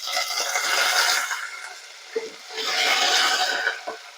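Curry leaves hit hot oil along with green chilies and garlic, making two rising bursts of crackling sizzle that swell and fade, close up and without talk.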